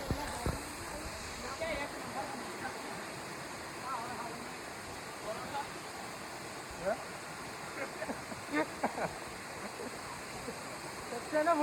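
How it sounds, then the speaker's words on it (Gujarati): A waterfall in the Girnar forest near Junagadh rushes with a continuous, even roar of falling water, with faint voices and occasional small knocks nearby. "આ ધોધ પડે છે"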